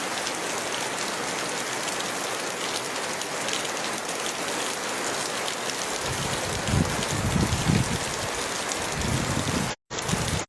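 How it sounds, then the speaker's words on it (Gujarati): Heavy rain falls steadily on farmland, a dense constant hiss with heavier pattering drops joining midway, close and loud, with a brief dropout near the end and no talking. "જો મિત્રો ફૂલે ફૂલ વરસાદ આવ્યો"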